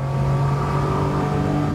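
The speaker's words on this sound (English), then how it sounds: "I had to start off with slower cars like the Audi TT like this one" Audi TT engine in a racing video game, a steady, loud droning hum of a car holding revs for a brief moment, no talk.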